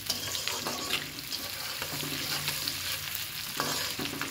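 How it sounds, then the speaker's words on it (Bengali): Onions and spices frying in a pan for a rui fish curry, a steady loud crackling sizzle with intermittent scraping and stirring, no talking. "আমি ভালো করে ভেজে নিচ্ছি।"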